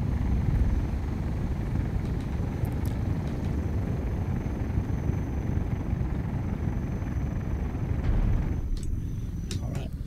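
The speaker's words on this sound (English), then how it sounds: "Oh, now, slow your roll there," A helicopter flies over a Birmingham, UK city area, a steady broadband rotor and engine roar holding loud and even throughout, easing slightly near the end as it slows.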